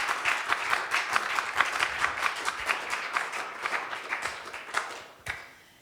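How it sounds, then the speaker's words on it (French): An audience at an intimate concert by a singer claps in a quick, continuous patter of many hands, moderately soft, then fades out abruptly near the end. "On l'applaudit enfin"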